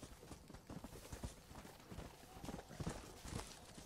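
Horse hooves in Red Dead Redemption on PS3 beat out a quick, rhythmic clip-clop gallop that runs steadily throughout, fairly faint and close.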